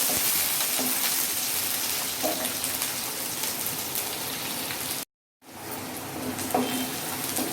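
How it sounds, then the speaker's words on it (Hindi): Onions fry in hot oil with cumin in a pan, giving a steady crackling sizzle like light rain. A brief dropout breaks it near the end. "अब मैं डालूँगी प्याज और इसको ब्राउन होने तक भून लेंगे।"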